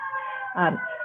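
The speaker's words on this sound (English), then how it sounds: "excuse the sirens in the background" A steady wailing siren drones in the background throughout, with a brief burst of nearby talk in the middle.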